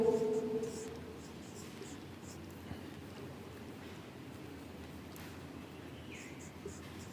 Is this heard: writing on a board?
yes